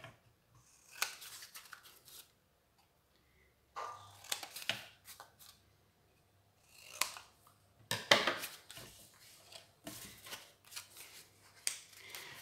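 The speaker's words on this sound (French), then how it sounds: "Hop, je coupe un peu les côtés." Scissors snipping the sides of a cardboard gift box, several short bursts of crisp close cutting separated by quiet pauses, the snips coming in quick clusters with no talk.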